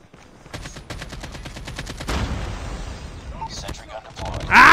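An AK rifle in a video game fires a rapid automatic burst of close, crisp shots, followed by a rumbling roar and a louder blast at the end. A voice is briefly audible.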